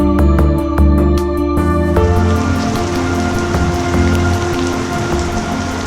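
Steady rain falls and patters on surfaces outdoors during a tour through Greece, a dense, continuous wash of drops with no voices, loud and close throughout.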